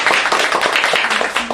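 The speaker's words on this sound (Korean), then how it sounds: "큰 박수로." Short burst of audience clapping at an indoor lecture on environment and youth education, dense and close for under two seconds.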